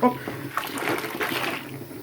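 Water from a low-pressure shower head pours onto a bubble bar in a bath. It makes a steady, splashing rush up close for a couple of seconds.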